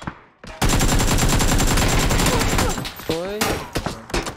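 Rapid bursts of automatic gunfire rattle loudly and continuously, then break into scattered single shots with a brief voice-like sound in between.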